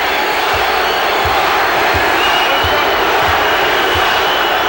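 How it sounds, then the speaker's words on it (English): A packed basketball arena crowd jeers derisively at Charles Barkley during a 1993 NBA playoff game between the Suns and Spurs, a loud continuous roar of voices filling the space from start to finish. "The derisive jeers from this crowd here, and Barkley loves it."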